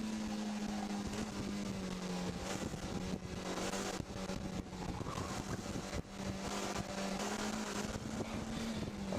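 Autocross car driving hard through a cone course at the Crows Landing ProSolo 2017 event, with a steady engine drone and tonal whine holding throughout, shifting slightly as it loads through turns, no talk.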